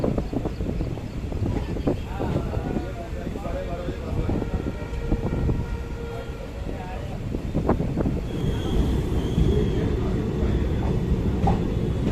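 Kashipur–Kasganj passenger train rumbling along NER tracks near a bridge between Lalkuan and Bareilly, a steady close rolling clatter with wind buffeting throughout; a voice speaks over it.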